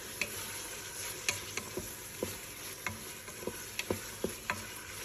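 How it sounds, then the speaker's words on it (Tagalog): Tomato paste is stirred into sizzling meat in a pan, a quiet steady sizzle punctuated by soft, irregular spoon taps and scrapes, heard close with no talking. "halu-haluin ko lang yung tomato paste niya at i-mix ko dito sa meat"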